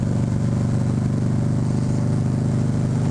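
A motorcycle with redshift cams, high compression and twin 45 mm Mikuni carburetors runs loud and close, its engine giving a steady, throbbing idle-like drone that continues without a break.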